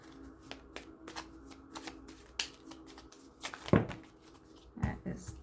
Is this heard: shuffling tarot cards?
yes